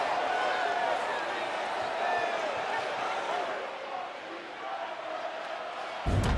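A loud stadium crowd roars at a Clemson at Pitt college football game, a sustained dense wash of noise that eases slightly near the end, with a commentator talking over it.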